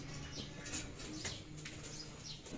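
Racing pigeons at a loft during a summer club training race, with soft low cooing and a few wing flaps and chirps, faint against steady outdoor background noise.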